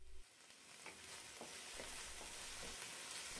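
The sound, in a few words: frying spices and tomato paste while stirring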